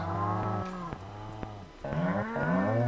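Several drawn-out cow moos from the video game Stardew Valley, one after another with short breaks, loud and close with nothing else around them.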